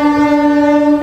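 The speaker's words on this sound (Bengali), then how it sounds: "এখান থেকে কিন্তু ট্রেন লাইনটা দেখা যায়, তোমরা শুনতেও পাচ্ছ আশা করি।" A train passing near a balcony, sounding a loud, steady horn blast close by with a rumbling undertone.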